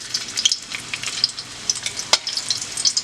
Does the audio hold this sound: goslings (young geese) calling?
no